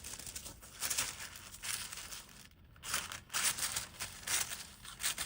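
Paper being wrinkled and crumpled by hand for gel printing produces close, bursty crinkling in several loud waves, with a brief pause midway before the crackling resumes.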